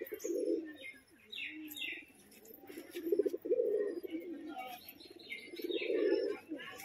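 Giribaz pigeons, a male chasing a female on the ground, give repeated throaty coos in three swelling bursts, with scattered chirps and light wing flutter in between.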